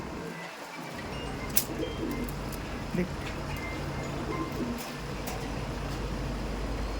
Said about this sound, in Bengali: পায়রাগুলো দেখুন